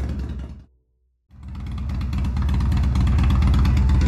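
Motorcycle engine idles steadily before a ride, a deep low rumble that cuts out briefly, then restarts and builds to a louder, continuous running drone.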